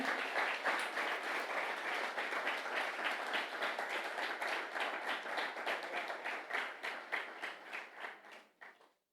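A church congregation at a retreat claps together in a sustained round of applause, the individual claps growing more distinct and sparse as it tapers off and stops.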